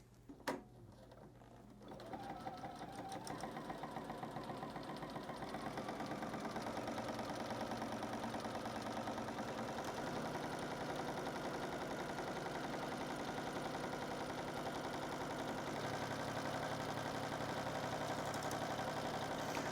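A Juki DX3000 QVP sewing machine stitches fabric for a quilted calendar project, starting after a brief click and then running in a fast, even, continuous whir close by with no talking.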